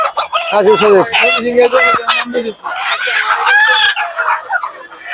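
Roosters at a chicken market crow loudly and repeatedly at close range, with clucking and other fowl noises between calls and voices in the background.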